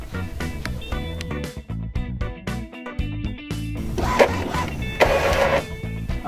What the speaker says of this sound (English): go ahead and reprint your image